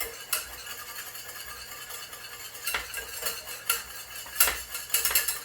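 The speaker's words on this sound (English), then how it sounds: "As I'm stirring it, I can see that it's sticking to the bottom of the pot." A utensil stirs a thickening Korean-style chicken wing sauce in a pot, scraping and clinking against the metal in an irregular rhythm. The sounds are close and fairly quiet, with no voices.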